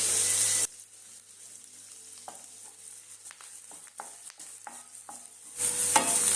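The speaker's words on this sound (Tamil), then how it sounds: "இப்ப வெங்காயம் பாத்தீங்க அப்படின்னா இந்த அளவுக்கு நல்லா வதங்கி வந்துருச்சு" Sliced onions and curry leaves fry and get stirred in a pan, giving a soft steady sizzle with scattered scraping taps, framed by louder, brighter frying bursts at the start and end.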